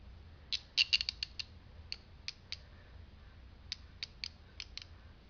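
Ratchet cutters working through a bundle of five 1/0 welding cables, giving a series of sharp clicks and creaks, clustered at first, then spaced out and fairly faint.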